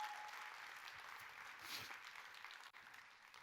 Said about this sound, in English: Can you give these guys a big round of applause?